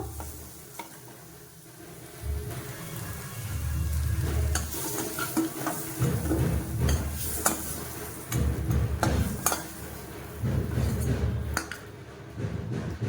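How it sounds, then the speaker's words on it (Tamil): Onion and capsicum gravy fried and stirred in a pan, a sizzle that swells and fades as a spatula repeatedly scrapes and clatters against the metal in several rounds, no voices. "சேர்த்துட்டு நல்லா கலரி விட்டுக்கணும்"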